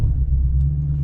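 Dodge SRT Demon 170 launching on launch control, a loud, deep engine rumble held steady and close throughout the short burst.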